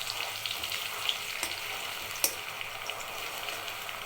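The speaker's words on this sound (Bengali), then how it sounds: "এই নারকেল তেলের মধ্যে মেথিগুলো সুন্দর ভাজা হয়ে গেছে।" Fenugreek seeds and herbs frying in coconut oil, a soft steady sizzle with a few sharp crackles and pops, fairly faint and close.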